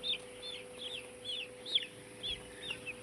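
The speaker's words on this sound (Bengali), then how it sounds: "আপনি দেখতে পাচ্ছেন যেরকম এই মুরগিটা" A farm chicken clucks in a steady series of short, fairly close calls, several in quick succession over faint background hum.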